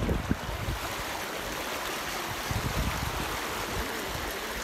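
Floodwater from rain and an overflowing river rushes across a flat field in Lakhanwal village, Punjab, Pakistan, making a constant broad wash of flowing water close by, with no voices.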